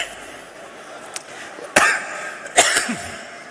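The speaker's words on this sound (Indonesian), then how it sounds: "Itu batuk." Two short, harsh coughs a second apart from a speaker at a Muhammadiyah religious gathering, close to the microphone, after a faint click in otherwise quiet room tone.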